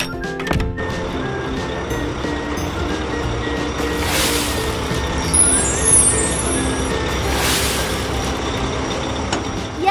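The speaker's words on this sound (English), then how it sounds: "Tow truck." A tow truck drives along with a steady engine rumble, hissing air-brake bursts and a string of high reversing beeps partway through, all close and loud without any talk.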